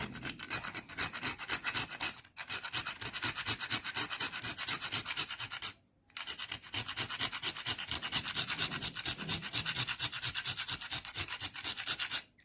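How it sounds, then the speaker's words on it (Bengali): Fast, even scraping strokes of a whole nutmeg rubbed against a grater, close and continuous, broken by two short pauses. "তাই জায়ফলটা একটুখানি ঘষে আমি দিয়ে দিচ্ছি এর মধ্যে"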